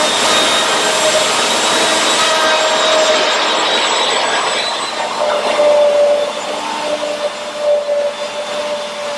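Wood lathe spinning a wooden bowl blank, a loud steady whirring hum with a high whine that dips and wavers midway as the load changes.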